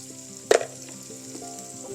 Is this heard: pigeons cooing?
no